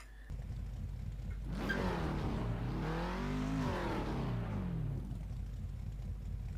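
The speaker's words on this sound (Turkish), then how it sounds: "Rolanti'deki ses mükemmel ama." A Ford Mustang Boss 302 V8 engine in a racing video game rumbles at idle, then revs up and falls back in a smooth rising and falling sweep before settling again.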